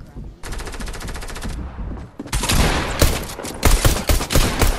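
Rapid gunfire in a video game from a harpoon gun, loud bursts of fast repeated shots, a sustained volley at first, then heavier scattered blasts and impacts layered together.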